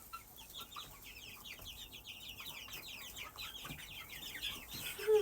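Baby chicks peep and cluck busily over a cucumber treat in a steady chatter of soft, high calls, close by and fairly quiet.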